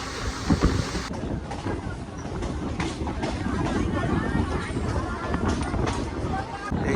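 Passenger train pulling into platform one at Bolpur Santiniketan station, a steady rumbling roll with wind buffeting the microphone and a crowd murmuring nearby while someone talks.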